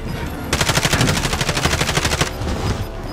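Rapid automatic gunfire in Call of Duty: Warzone on the Rebirth Island Resurgence map, a loud sustained burst of closely spaced shots that runs for almost two seconds before breaking off into game ambience.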